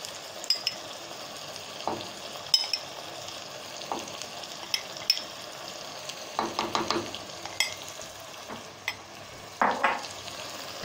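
A spoon stirring tomato puree into meat and potatoes frying in a pot for aloo gosht, with steady sizzling under repeated close scrapes and clinks against the pan.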